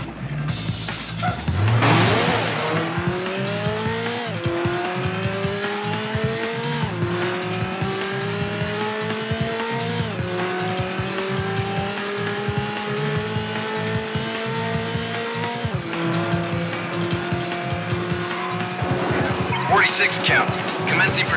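A red Ferrari 360 Spider in a police pursuit in the racing game Need for Speed: Hot Pursuit 2, its engine revving loud and continuous through repeated gear shifts with tire squeals, under police radio chatter.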